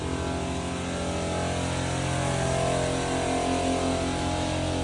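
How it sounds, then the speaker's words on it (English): An air compressor runs steadily in a workshop during a Ford Super Duty brake job, a continuous mechanical hum and whir holding level and close for several seconds with no talk. "But I gotta let my compressor get built up."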